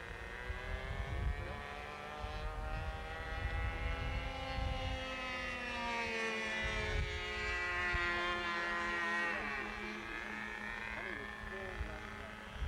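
Small airplane engine droning steadily as it comes in, with a sustained harmonic hum that rises and falls slightly over several seconds, loud and continuous with some background noise.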